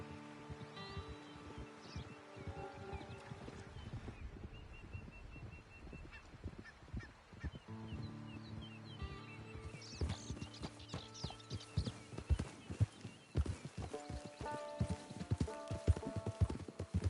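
Horse hooves clip-clopping at a steady rhythm in Red Dead Redemption 2 Online, close and continuous, mixed with game music, ambient birds and honking geese, with no talk.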